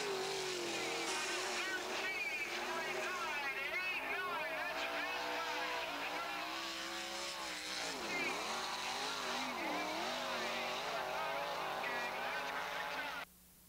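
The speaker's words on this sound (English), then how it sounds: "he stands on the gas and sets the fast time of the evening" A 1985 sprint car at the East Bay Winternationals runs a fast qualifying lap, its engine a loud continuous roar with rising and falling pitch as it works through the turns, while an announcer talks over it.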